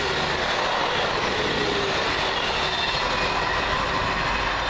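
Two coupled Class 158 diesel units, 158830 and 158841, pass at Coseley on the line toward Shrewsbury, producing a loud, steady rumble of wheels and engine with faint squealing and rhythmic rail clatter.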